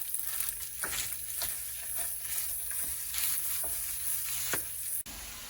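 Beef and mushroom stuffing mixture stirred in a hot pan, with a steady low sizzle and soft repeated scraping strokes, close and fairly quiet.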